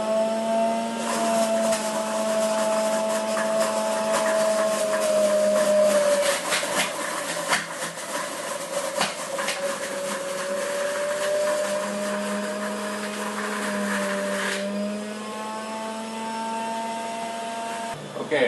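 A juicer grinds carrots with a loud steady motor whine that shifts pitch as pieces feed through, running continuously throughout.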